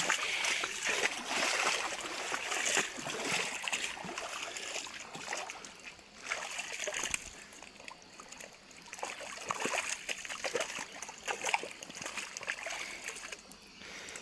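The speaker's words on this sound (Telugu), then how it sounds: "ఇదైతే నీళ్ళు అన్నమాట." Water flows steadily alongside a ghat path on a hillside climb, a continuous close rushing and trickling with faint splashes that stays fairly even throughout.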